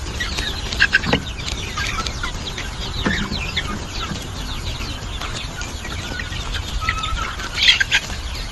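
Native country chickens on a farm cluck and call steadily at close range, with a few louder squawks rising above a constant flock chatter.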